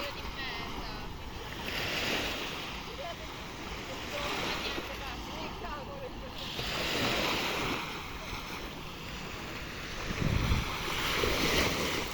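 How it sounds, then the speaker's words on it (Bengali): Ocean waves roll and break steadily on the beach at Pescara, a continuous loud surf wash with gusts of wind buffeting the microphone, swelling at about 2, 7 and 10 seconds. "ঢেউ আসতেছে,"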